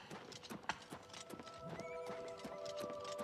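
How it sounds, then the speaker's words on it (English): A horse in Oblivion Remastered, the Elder Scrolls IV game, clip-clops in quick rhythmic hoofbeats and then gives a clear, drawn-out whinny, fairly quiet overall. "Oh, I hear a horse."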